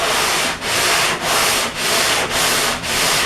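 Body filler on a curved car body panel is sanded by hand in steady back-and-forth strokes, a loud close abrasive rasp repeating about six times with brief pauses between passes, no voices.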